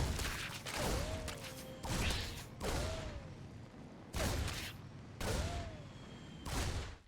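StarCraft 2 combat with a Reaper's grenade: repeated heavy, booming blasts and bursts of gunfire land in roughly second-long waves, with descending whistling tones between impacts.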